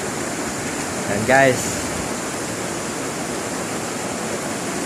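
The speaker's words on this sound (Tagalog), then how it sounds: "parang buong Bohol to guys ang umuulan, no?" Heavy rain pours steadily over Bohol, a dense, even wash of noise filling the whole stretch, with someone briefly speaking over it near the start.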